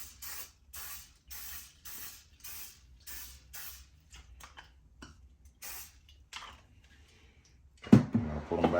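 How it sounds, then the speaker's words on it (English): Vegetable oil sprayed from a pump bottle onto chicken wings for an air fryer: a run of about a dozen short, close spritzes in a steady rhythm, then a louder clatter at the end. "I'm going to give them one more shot of vegetable oil on some of the spots that aren't."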